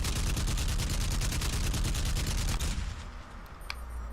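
Rapid automatic gunfire from the video game Crysis on PS3 sounds as a loud, dense rattling burst. It stops after about three seconds, followed by a quieter lull with a single sharp crack.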